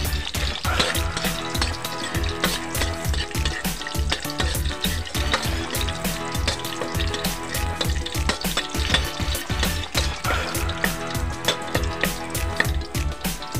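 Curry paste is stir-fried in a hot pan for a Thai snail stir-fry. It makes a loud, continuous sizzle with crackling spatters and frequent scraping and stirring clatter throughout.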